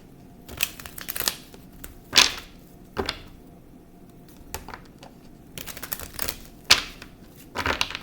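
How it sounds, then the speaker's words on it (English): Quick papery riffles and slaps of tarot cards being shuffled, irregular bursts close by with short pauses between, no talking. "I'm going to shuffle."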